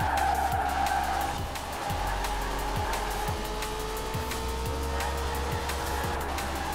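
Nissan Skyline driving in Forza Horizon 4 with a steady engine hum and sustained tire squeal, punctuated by a regular series of thumping bumps, close and moderately loud.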